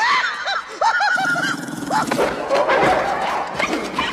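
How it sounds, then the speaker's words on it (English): Several sharp barks and yips from dogs, close and overlapping in a short, noisy scuffle, with a rough growling texture underneath. "the sound effects that they used are dogs barking"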